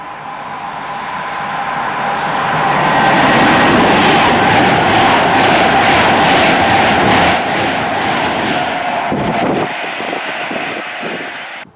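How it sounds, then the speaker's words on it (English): A Pendolino or Super Voyager train runs through a station in Cheshire, swelling into a loud, close rush with rhythmic wheel clatter, holding for several seconds, then fading with a few sharp clacks at the end. "there is a Pendolino or a Super Voyager that's going to be passing through very shortly"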